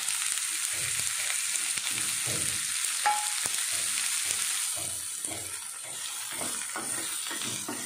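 Chopped onion dropped into hot oil with cumin seeds, frying with a steady close sizzle and hiss while being stirred, with repeated scraping strokes across the pan.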